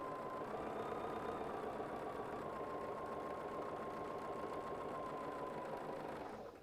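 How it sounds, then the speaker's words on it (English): A sewing machine stitching quilt squares in one continuous run, its even mechanical whir and fast needle patter holding steady, close and moderately quiet, before stopping abruptly at the end. "I just have to line up 2 sides and put it underneath the presser foot and sew."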